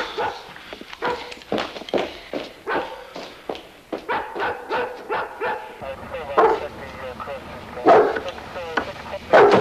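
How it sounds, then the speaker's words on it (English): A dog barks repeatedly in short, rhythmic bursts from a distance, its yips and woofs continuing throughout, with faint movement underneath and no clear talk. "Your dog is creating a disturbance."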